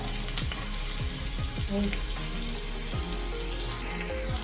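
Chopped onion and green chili sizzling in a pan, a steady, close frying hiss with intermittent soft scraping and stirring clicks throughout, no voices.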